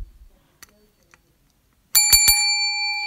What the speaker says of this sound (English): The bell is rung, now they're going at it.